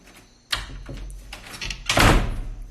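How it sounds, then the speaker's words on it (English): A door closes with a sharp thunk, followed by small rattles and a louder heavy bump as it is shut and locked nearby. "I'm about to close this door."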